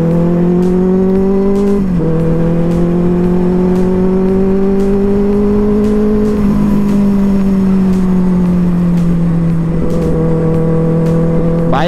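A motorcycle ridden through city streets, its engine holding a loud, steady drone with small pitch dips and rises as the throttle eases and picks up, with no talking.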